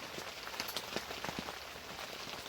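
Rain falls steadily at a carp fishing lake in January, a dense close hiss of drops with scattered louder patters striking nearby surfaces, and no one speaking.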